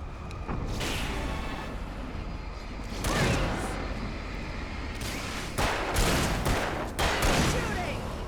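Gunfire in the video game Alan Wake, loud continuous volleys of shots with sharp cracks and bursts throughout, thickening in the second half, while people talk over the action.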